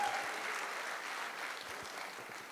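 Steady, dense audience applause at a speech event, a continuous wash of many hands clapping at moderate volume that tapers slightly toward the end.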